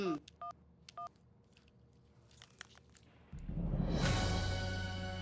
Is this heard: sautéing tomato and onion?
no